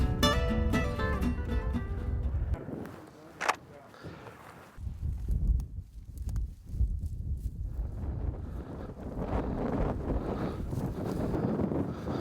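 Steady wind buffets the microphone in a low, continuous rumble, with occasional rustling bursts and faint voices in the background.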